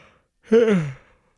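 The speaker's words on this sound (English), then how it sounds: "Wow, big yawn." A person gives one big, loud, close yawn, a rising then falling voiced breath lasting about half a second and heard alone with no talk.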